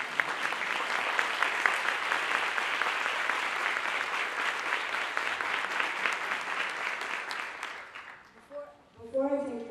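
A seated audience applauds steadily and loudly for about eight seconds, then the clapping fades and a single voice begins speaking.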